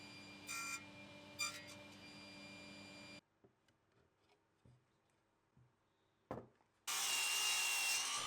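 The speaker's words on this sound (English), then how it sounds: "I used the table saw to cut some housings to accommodate the rails." A table saw cuts housings into wood for desk rails; a steady whine runs for about three seconds, then after a quiet stretch of small knocks and taps, a loud cutting roar begins near the end.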